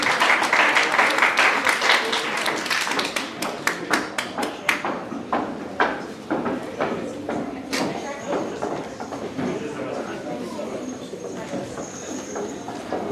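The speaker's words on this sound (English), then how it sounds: "Round of applause for Susan." Audience applause at a ballroom dance award presentation, a steady burst of clapping that thins into scattered individual claps, with faint background chatter.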